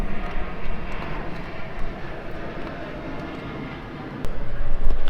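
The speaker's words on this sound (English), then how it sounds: "Mind airplane going over." An airplane passes overhead as a steady, broad roar that swells and fades while work continues on a GU Patrol, with a voice briefly audible in the background.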